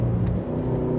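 A 2024 Cadillac CT5-V Blackwing sedan's engine revs hard on throttle, giving a close, loud, continuous growl across a brief moment.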